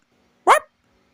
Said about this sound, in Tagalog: Parang tahol. Diyos ko, hindi ahas to. Aso. May aso sa loob ng pader.